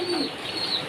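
Domestic pigeons kept in a home loft coo softly and continuously, a low throaty murmur repeating steadily at close range with no talk.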